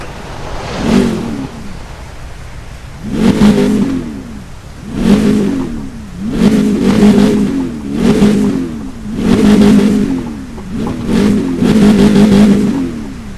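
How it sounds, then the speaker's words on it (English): A 2014 Chevrolet Corvette Stingray engine revs repeatedly in the video game Need for Speed Rivals, about seven rising and falling roars in a steady rhythm, loud and close, with no talking. "Now before we started the race, we're gonna hear the engine roar."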